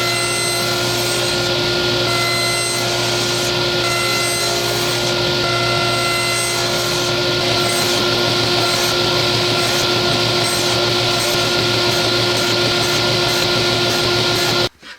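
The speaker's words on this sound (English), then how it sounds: "I'm going to do this the long way with just a regular crosscut blade in here, and we'll nibble away" Table saw fitted with a regular crosscut blade nibbling out a dado in wood for an adjustable stool, a steady loud whining drone with repeated pass-by-pass rises in the cutting hiss, running continuously without talk until it cuts off at the end.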